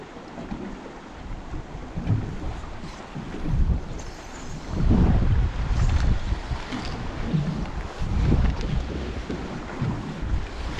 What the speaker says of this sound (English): The wind's blowing like across it